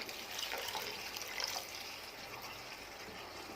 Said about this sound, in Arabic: هننزل بقى بالميه، العيار الميه بتاعت الكشري الاصفر.